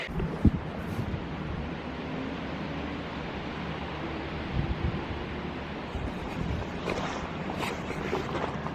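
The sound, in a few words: strong wind blowing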